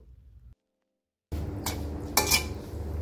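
Papaya kofta dropped into gravy simmering in a cooking pot, heard after a brief silence as a close metallic clatter and scrape of utensil against pot, with no talk.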